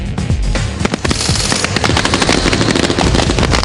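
Machine guns from a patrol fire on the enemy. The rapid bursts are loud, dense and overlapping, and they carry on without pause.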